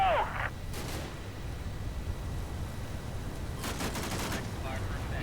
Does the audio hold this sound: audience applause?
no